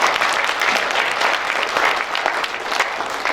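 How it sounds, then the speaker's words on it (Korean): Sustained, dense applause from the audience at the 54th Korea Journalist Awards ceremony fills the hall evenly, with no talk over it. "다시 한번 오늘 수상하신 모든 분들께 축하드린다는 의미로 박수 보내주시겠습니까?"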